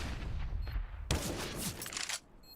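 AK-47 gunfire in a PUBG esports match, a clipped burst of rapid shots with a sharp louder crack partway through, then a tail of fire that drops away abruptly.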